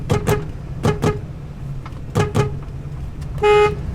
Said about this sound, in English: I'm gonna do a horn check.